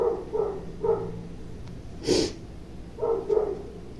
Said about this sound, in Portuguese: E o cachorro passou o dia inteiro calado, ele veio latir agora.